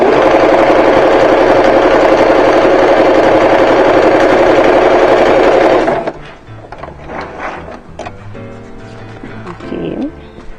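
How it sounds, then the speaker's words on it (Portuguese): A sewing machine runs at a fast, steady hum while stitching a patchwork quilt block, then stops abruptly partway through, leaving faint handling clicks and rustles. "vou costurar também um pezinho de máquina"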